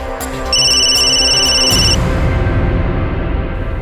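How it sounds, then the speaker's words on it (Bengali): A telephone rings with a bright electronic trill in short bursts, close and loud, then gives way to a steady low rumble of background noise. "ফোনটা ধরুন।"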